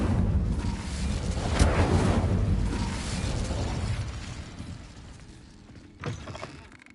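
An Incendio fire spell cast in Hogwarts Legacy: a loud whooshing burst of flame with crackling that swells, then fades over several seconds, followed by a second, shorter burst near the end.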